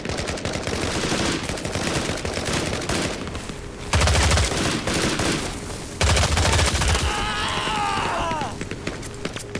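M16 rifle fire in the Vietnam-era shooter game Hell Let Loose: Vietnam, with rapid bursts of shots and heavy booming reports around four and six seconds, plus a voice briefly calling out near the end.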